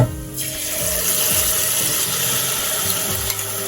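A ground egusi and water mixture being poured back into a cooking pot, a steady continuous liquid rush with a faint sizzle underneath, close and without talk.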